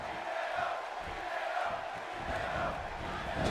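Arena crowd in the WWE 2K16 wrestling video game, a steady broad roar of cheering fans rising behind a wrestler during an NXT match, continuous and moderately loud throughout.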